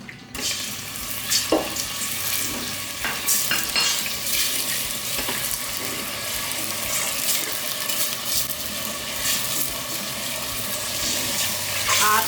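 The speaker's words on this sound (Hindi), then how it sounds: "चिकन को हम फ्राई करेंगे 2 से 3 मिनट तक।" Chicken fries in about half a cup of oil over a medium flame, a steady close sizzle with stirring scrapes and clatter, louder bursts in the first seconds, then settling into a continuous hiss.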